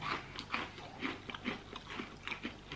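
A crunchy cookie with a chocolate layer is bitten and chewed close to the mouth, giving repeated crisp crunches in a regular chewing rhythm, fairly quiet, with no talking.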